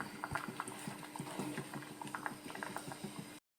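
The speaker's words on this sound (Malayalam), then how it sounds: "അത് നല്ലോണം തിളച്ചിട്ടുണ്ട്." Liquid for a plum cake boiling in a pan, a continuous quiet bubbling with soft rhythmic pops close by, cutting off abruptly near the end.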